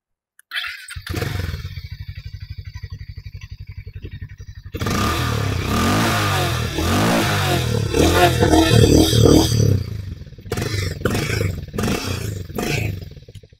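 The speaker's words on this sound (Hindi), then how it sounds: "एग्जॉस्ट साउंड भी आपण को एबे सुनै देउछ" A Hero Mavrick 440 motorcycle idles with a steady low thump, then revs hard several times, the exhaust roaring loud and close before dropping back to idle.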